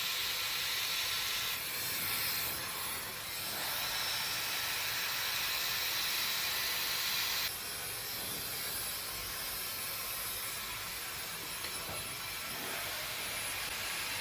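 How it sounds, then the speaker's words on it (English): A hair dryer blows hot air through hair during a blowout, a close, steady broadband hiss that shifts in tone as the airflow is moved around, with no talking. "So I'm using my hair dryer to melt basically that product into the hair"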